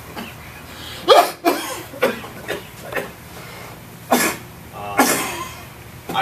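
A person coughs repeatedly and close up, a series of about eight harsh, irregular coughs with short pauses between them.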